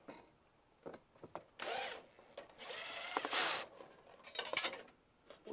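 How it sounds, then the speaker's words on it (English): A power drill backs screws out of an eavestrough on a house, giving several short whirring bursts of a second or so between quiet pauses, with small clicks and handling knocks, close and moderately loud. "So what we're going to do is get these screws out."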